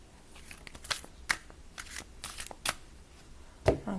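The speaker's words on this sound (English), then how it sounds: "I need to shuffle one more time." A deck of tarot cards being shuffled up close, a string of crisp riffling snaps and soft slides spaced irregularly over a few seconds, with no talking.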